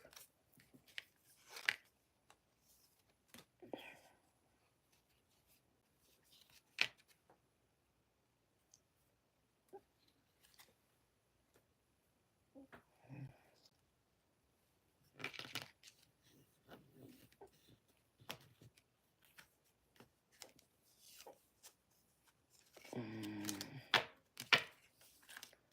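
Tarot cards are handled and gathered up in scattered bursts of soft clicks, flicks and shuffling, with quiet gaps between, close and fairly faint with no talk.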